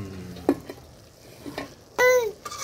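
Egg keema scraped and stirred in a pan, a few soft close scrapes followed by a brief sharper metallic scrape, with quiet gaps between.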